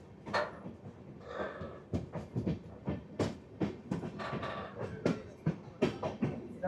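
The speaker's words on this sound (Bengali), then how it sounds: "8:39 নিউ ফারাক্কা জাংশন থেকে বেরিয়ে যাচ্ছে আমাদের ট্রেন।" A passenger train on the Tebhaga Express route pulls out of New Farakka Junction, heard from on board, its wheels knocking over rail joints in a steady, uneven clickety-clack with loud rattles, and no talking.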